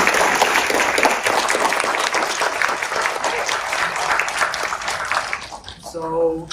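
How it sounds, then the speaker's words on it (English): Loud, dense applause from a large crowd filling the space, holding steady before fading out as a voice begins at the end. "can we have a big round of applause for our three speakers today?"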